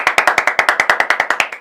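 Rhythmic applause from a comedy show audience, with about a dozen evenly spaced, loud claps over a short stretch, as if the crowd is clapping in unison.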